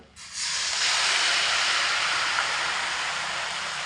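Water hits a pan of frying spice masala for a vegetarian parboiled-rice pulao, bursting into a loud, steady hissing sizzle that carries on without any voices.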